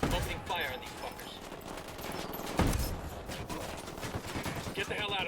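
Video game gunfire in a shootout with enemies carrying submachine guns: bursts of rapid shots with one sharp louder crack midway, mixed with game sounds and some voice chatter.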